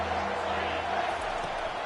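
Stadium crowd in an American football video game against Nebraska, a steady broad roar during a defensive timeout with 12 seconds left, continuous and moderately loud with no clear peaks.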